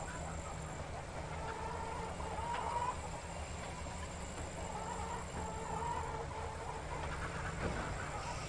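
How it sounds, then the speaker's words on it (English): Farmyard chickens cluck faintly and intermittently in a Trainz 2019 railway game, set against a steady low train rumble, with no talk over them. "Sounds like one of these farmers here has a lot of chickens running around."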